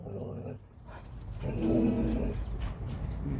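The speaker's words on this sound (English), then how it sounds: "Batshit dogs are on the move." Dogs growl and whimper up close, low rumbling rising midway and fading into softer whines over a noisy background.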